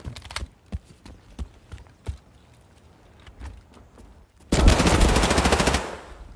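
Gunfire in Escape From Tarkov, a series of separate sharp single shots followed by a sustained burst of rapid automatic fire, loud and close, with no talking.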